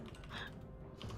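Quick, close keystrokes on a computer keyboard patter in a short burst of typing.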